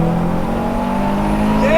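A turbocharged sleeper build accelerates hard up an on-ramp, its engine note loud, close and steady under rising harmonics, with a rising whine near the end.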